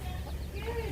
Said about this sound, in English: A mother hen.